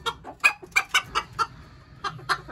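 Bantam hens cluck in quick, uneven bursts, several sharp clucks close by with short pauses between them.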